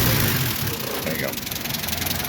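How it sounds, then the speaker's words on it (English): Renault R10 automatic car engine running at high idle, a steady mid-pitched drone with a faint rattle, close by and continuous, with someone talking over it. "Car doesn't shift with high idle like that."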